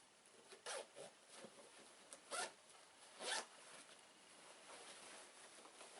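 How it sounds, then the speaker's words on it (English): A zipper closing an insulated picnic bag gives several short rasping zips in uneven bursts, quiet and close, with soft handling rustle between pulls and no talking. "So when you zip that up, you can see"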